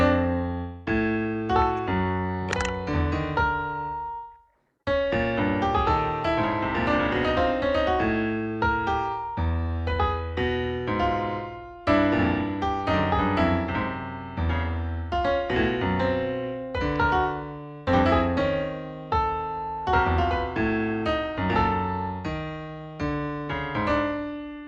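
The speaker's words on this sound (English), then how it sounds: "a dodecaphonic series would sound like this" Twelve-tone dodecaphonic note series generated by a math sonification program, clear melodic pitched notes in varied rhythms across several layered voices, steady and close, with one brief silent gap near the start.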